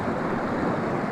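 Creek water runs steadily at close range, a broadband rushing wash with no breaks, heard alone without talk.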